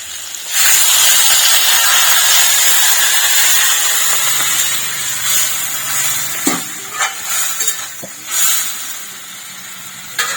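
Water poured into a pan of fried potatoes sets off a loud, sudden hiss of steam that gradually fades into softer bubbling with scattered clinks of utensils, close by and with no voices.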